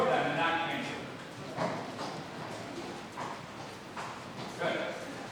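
Horse cantering in a dressage session, with soft rhythmic hoofbeats on an arena surface at moderate distance, repeating steadily while a trainer talks over them.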